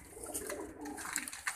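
Faint, low pigeon cooing, a soft throaty murmur in a short, quiet stretch with light background noise.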